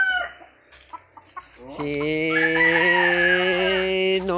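A chicken crows loudly and close in one long drawn-out call after a few soft clucks, with brief talk at the start.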